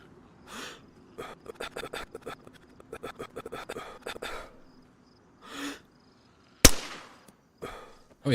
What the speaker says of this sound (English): Let's shoot the zombie with a suppressed pistol.